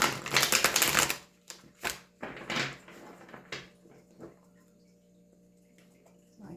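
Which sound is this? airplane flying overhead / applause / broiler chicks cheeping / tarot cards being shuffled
tarot cards being shuffled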